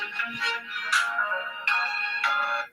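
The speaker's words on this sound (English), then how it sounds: "It's always when I go live, my phone want to start ringing and stuff." A phone ringtone plays a bright electronic melody in repeated phrases, fairly loud and close, then stops abruptly.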